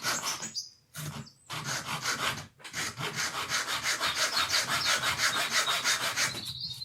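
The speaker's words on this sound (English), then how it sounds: "apologies for the jerky sawing" A hacksaw cuts the end off a printmaking tool in uneven, jerky rasping strokes, starting with a few halting pulls before settling into a steady rapid back-and-forth rhythm, close and clear.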